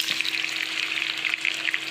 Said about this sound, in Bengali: ঘি গরম হয়ে গেছে, গরুর গোশটা দিয়ে দেবো।